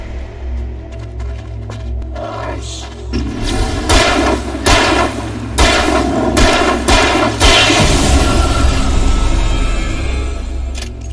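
Gunfire in a video game rings out as a series of heavy booming shots in irregular bursts over a low rumbling game soundtrack. The shots sound loud and close, and no one speaks.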